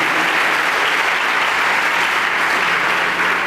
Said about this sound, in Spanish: Dale ese aplauso bien fuerte al Rey